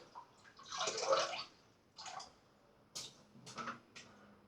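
A wet Simpson Monarch Chubby II shaving brush swirls against a puck of shaving soap, producing soft, close, squelchy lathering bursts with brief pauses and small wet clicks between strokes.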